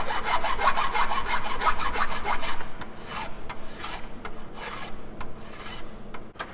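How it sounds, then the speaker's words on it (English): A hand file smooths the cut edges of a metal part, producing fast, rhythmic rasping strokes, loud and close, in quick repeated bursts that slow to more spaced strokes partway through, with no talking. "I prefer to do it with a file."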